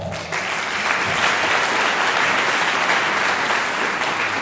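An audience at a Friday night folk concert claps loudly and continuously in a hall after a brief softer start, with a dense, even wash of hands throughout.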